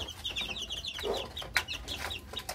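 Twelve-day-old gamefowl chicks, a Miner blue cross with McLean and pumpkin, crowded ten together in a small cage, give continuous rapid high peeping and cheeping, close and fairly soft.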